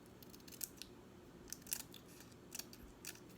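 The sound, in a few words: scissors trimming paper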